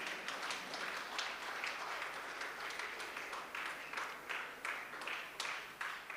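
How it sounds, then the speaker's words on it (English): A crowd applauds after a live tabla ensemble performance, many hands clapping steadily and sustained with distinct individual claps popping out, moderately distant and quiet. "give them a big round of applause"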